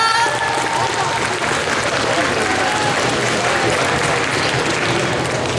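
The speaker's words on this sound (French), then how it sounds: "Et je veux un tonnerre d'applaudissements, s'il vous plaît." Audience applause fills a cosplay contest hall at a French convention, a dense steady wash of clapping and crowd noise throughout, with voices mixed in beneath it.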